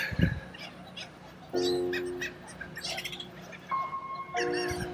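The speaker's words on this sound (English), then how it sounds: "The seagulls are having a feast down there with all the," Seagulls feed on stranded shad along the Galveston shore after the tide has gone down, with several harmonic calls and chirps arriving in short bursts at moderate distance.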